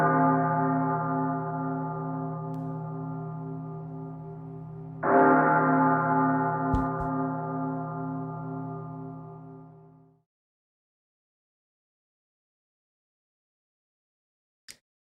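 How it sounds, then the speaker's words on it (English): Church bell tolling twice, the first ring sustaining and fading, then a second strong strike ringing out for several seconds before decaying into silence, with a faint click at the end. "Bell tolls for the two old men."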